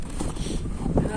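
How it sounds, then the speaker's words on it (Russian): Strong wind gusting across the ice during a night of winter fishing in bitter frost, a steady rushing roar buffeting the microphone with uneven swells. "Ветер капец."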